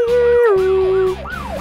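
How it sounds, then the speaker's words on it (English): Wailing emergency vehicle siren from a children's cartoon, rising and falling in loud sweeping cycles over a steady honking tone, close and continuous throughout. "That's the siren. During emergencies, we turn these on to let people know they should clear the road."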